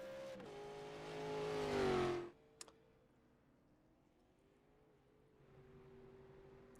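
Race cars of the All-American Cup Series at the Firecracker 200 pulling away on pit road: a nearby engine revs up and roars briefly, then drops away to a faint distant drone and quiet clicks.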